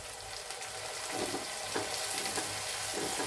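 Onions frying in a pan with a little water just added give a steady, close sizzle and hiss, with a few soft stirring scrapes throughout and no voices.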